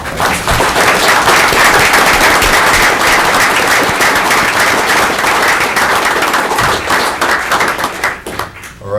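A city council audience in Waterloo bursts into loud, crisp, dense clapping that stays strong for most of nine seconds, then thins and fades near the end.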